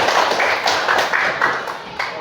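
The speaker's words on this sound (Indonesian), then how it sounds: "kalau semua hadir beri tepuk tangan untuk kita sekalian" A class of schoolchildren claps hands together in a lively, uneven burst of loud, close claps mixed with voices.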